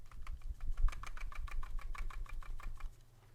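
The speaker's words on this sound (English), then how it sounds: "what you're hearing the rattle coming from is the tensioning system in the clicks" Rapid rattling clicks from the scroll wheel and tensioned buttons of a Logitech G303 wireless gaming mouse, a quick regular train of small plastic ticks lasting about three seconds, close and fairly quiet.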